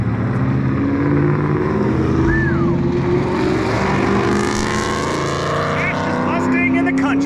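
A Ford Mustang drives past a shop with a loud, continuous engine roar that swells and fades slightly, while a voice talks over it.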